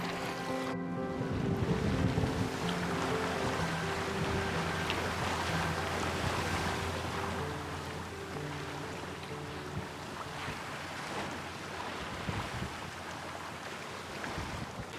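A small sailing boat moves steadily through water across a channel off Poole, with constant wash, wind rushing across the microphone, and a low hum running underneath throughout.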